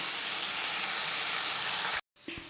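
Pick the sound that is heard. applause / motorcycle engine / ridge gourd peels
ridge gourd peels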